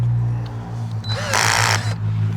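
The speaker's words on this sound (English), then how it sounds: "You want to hold and me drill it in?" Power drill driving a screw into a wooden chicken coop, a single broad whirring burst of roughly half a second, close and loud over a steady low hum.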